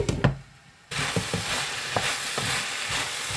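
Green beans and potatoes cooking over a medium flame in a pan for beans aloo sabji: after a brief near-silence, a steady sizzle rises, punctuated by a few stirring scrapes, close and continuous.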